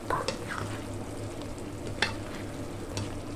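A spoon or spatula stirs sautéed chayote with chicken liver in a pan, giving soft scraping strokes and a few sharp clinks over a quiet, steady background sizzle.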